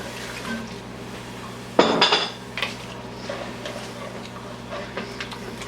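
A lid is set over a pot of tomatoes and stock, giving one brief metallic clatter and clink up close, then a faint rattle fading under a low steady hum, with no voices.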